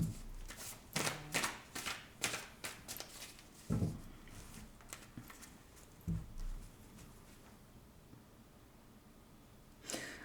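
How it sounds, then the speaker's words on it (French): Tarot cards shuffled and cut by hand, a run of soft papery riffles and slaps with a few sharper taps, close and fairly quiet, with no talking. "on va prendre deux cartes on va couper"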